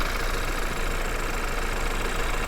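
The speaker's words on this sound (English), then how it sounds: "So here we have our 4-cylinder turbocharged engine." A 2013 BMW 328i four-cylinder turbocharged engine idling, a steady, even hum heard close up with no talking.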